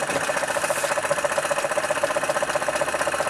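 A steam engine runs at a slow idle, giving a steady, even mechanical hum with a faint regular beat that stays level throughout, close by and with no one talking.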